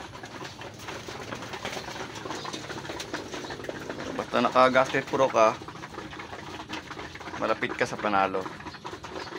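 Pet pigeons coo softly in the background throughout, with someone talking over them in two short bursts.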